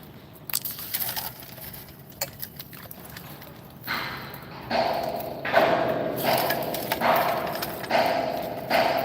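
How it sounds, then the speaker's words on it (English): Hammering from nearby football stadium construction carries in as scattered sharp knocks and thuds, some clustered, some spaced apart, at moderate distance over a low outdoor background. "I didn't know you could build a football stadium with a hammer"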